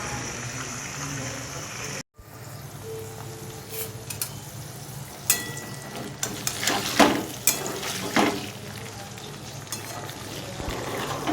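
Stuffed pointed gourd (patal pur) frying in a pan over low heat gives a steady, soft sizzle with occasional sharper clicks and scrapes of stirring, with a brief silent gap near the start.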